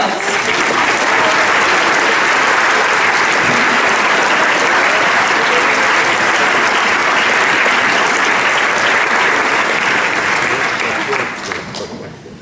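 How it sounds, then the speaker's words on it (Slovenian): A theatre audience at a premiere performance claps loudly and continuously for about twelve seconds, a dense even wash of many hands that thins out only at the end. "Zdaj pa aplavz za Mihovo teto Mici iz Amerike"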